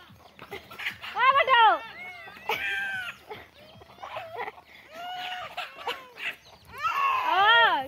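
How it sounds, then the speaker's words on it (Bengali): Domestic hens clucking close by in a home courtyard, several bursts of rising calls with pauses between, over household background noise and some voices. "মুরগি"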